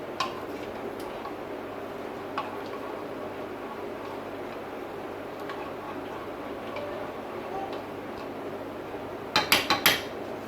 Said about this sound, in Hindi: अब इस मसाले को हम मिक्स कर लेते हैं।